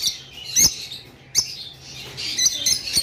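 Caged pet birds for sale, a breeding collection of about fifteen pairs, calling with bright chirps and short squawks at irregular intervals. The chirps are close and moderately loud over quiet background hum.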